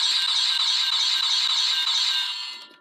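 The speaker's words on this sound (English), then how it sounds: "makes the slash sound effect" Gokai Saber toy sword from Kaizoku Sentai Gokaiger plays a bright electronic slash sound effect, a loud, steady, high-pitched burst through a small speaker lasting a couple of seconds before cutting off.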